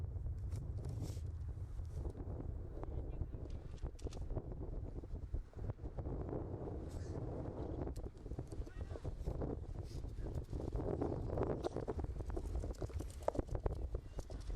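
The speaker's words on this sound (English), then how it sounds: "As a gust of wind comes flying through, knocking pretty much everything over." A strong gust of wind sweeps across a football pitch at a youth soccer match, a loud continuous rumbling roar buffeting the microphone throughout.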